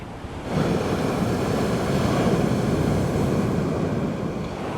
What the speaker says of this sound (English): I'm looking at the beach that has the biggest waves in the world.